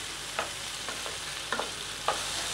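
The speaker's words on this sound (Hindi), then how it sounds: "ये देखिए हमारी सब्ज़ी भुन रही है कितनी अच्छी तरह से क्रिस्पी होती जा रही है" Pumpkin pieces fry in a pan with a steady sizzle, while a spoon stirs them a few times with soft, scraping strokes. The sound is close and continuous, and no one speaks.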